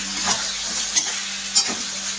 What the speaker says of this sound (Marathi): त्यामध्ये आता आपण छान फुनके तळून घेणार आहोत।